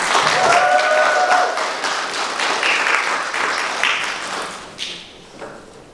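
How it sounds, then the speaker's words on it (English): Applause from a conference audience fills the room, dense clapping that holds steady, then tapers and thins out toward the end. "So can everybody give a round of applause for Sarai?"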